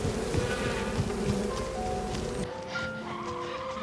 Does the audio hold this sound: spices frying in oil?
no